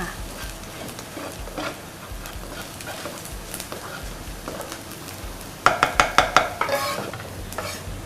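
Curry with mushrooms being stirred and stir-fried in a pan on a cooking show, a steady scraping stir under faint sizzling, with a run of sharper utensil clacks against the pan near the end.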